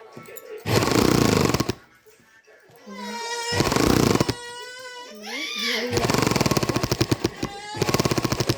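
Sewing machine stitching a half-sleeve shirt: fast rhythmic mechanical chattering in several runs, close and loud, with someone talking in between and over the stitching.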